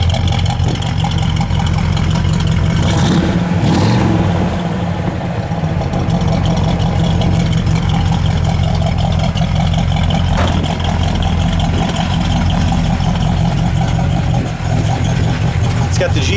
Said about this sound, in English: I just love that trumpet exhaust, the exhaust cutouts in the bumper. It's got a great idle to it.